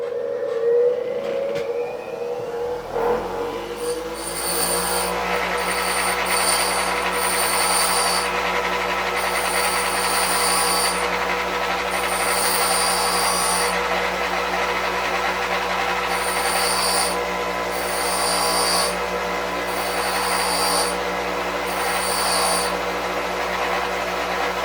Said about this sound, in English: As quick as my grinder gets going.